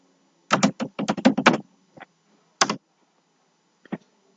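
Short bursts of computer keyboard keys being typed, a quick cluster of clicks followed by a few isolated single presses, close and clear in a quiet room.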